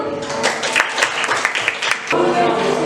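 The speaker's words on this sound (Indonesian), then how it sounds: "Silakan tepuk tangan dulu" Steady applause from a group of students in a classroom lesson, clapping continuously for a few seconds with a voice briefly audible in the mix.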